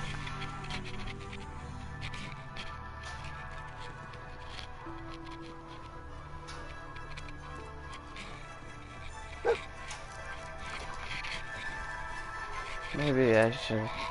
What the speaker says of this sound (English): Making my dog dance, he's getting driven crazy.